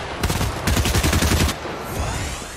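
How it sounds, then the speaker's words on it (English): Rapid bursts of gunfire in the video game Fortnite, loud dense automatic shots in two volleys followed by a softer trailing rattle, no talk. "There's a guy right beneath us shooting."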